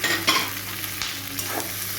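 Capsicum chunks and tomato frying lightly in a pan over a high gas flame for chilli chicken, a steady close sizzle with a few sharp stirring scrapes, no voices.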